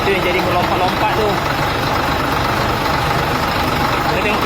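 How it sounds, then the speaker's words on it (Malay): A truck engine idles with its air-conditioning compressor drive belt jumping on a modified bracket, giving a loud, steady, close-up mechanical rumble that churns without pause. "Lompat belting ni kuat sangat."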